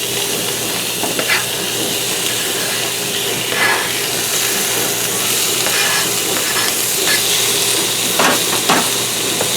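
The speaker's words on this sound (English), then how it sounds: "now you want to stir fry" Chicken in red curry stir-fried in a pan at home, with a steady bright sizzle and hiss throughout and occasional scraping stirs of the utensil against the pan, close and fairly loud.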